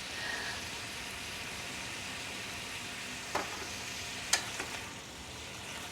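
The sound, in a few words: food sizzling in a frying pan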